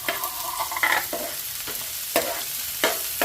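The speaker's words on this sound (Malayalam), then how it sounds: "ഇനി കഴിച്ച് നമുക്ക് സവോള ഇട്ടെടുക്കാം" Sliced onions frying and being stirred in a pan while preparing a home-style chicken stew, with a steady sizzle broken by repeated scraping strokes of a spoon against the pan, close and moderately loud.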